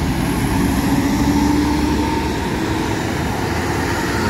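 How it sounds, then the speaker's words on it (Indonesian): A luxury Ventura bus rumbles past on the road with a deep, steady exhaust roar, loud and continuous, swelling slightly and then easing off, with no voices over it. "Wih, mantap knalpotnya."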